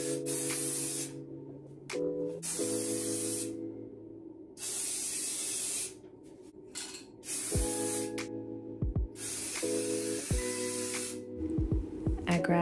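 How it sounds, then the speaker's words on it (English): A spray paint can hisses in several long bursts onto a crocheted sweater, separated by short pauses, and a low steady hum sits underneath the spraying. "And then I'm gonna just spray paint away."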